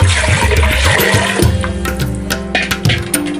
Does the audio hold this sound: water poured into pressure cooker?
yes